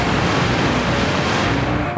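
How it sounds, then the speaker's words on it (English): Dense, continuous rumbling blasts from a run of explosions in the first-person shooter Serious Sam, loud and sustained throughout with no pause, like heavy gunfire and detonations layered together. "That's a lot of explosions."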